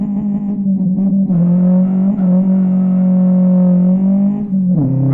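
A Saveiro 1.6 single-turbo pickup with forged internals and a custom downpipe and midpipe exhaust revs in the Live for Speed racing game, a loud, steady droning engine tone held high, with brief dips and a final rev-up.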